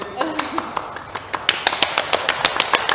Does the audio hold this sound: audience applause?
yes